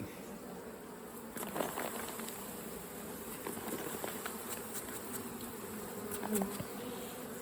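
Steady buzzing of many honeybees around a hive, a continuous drone close by with faint occasional higher whines, no voices.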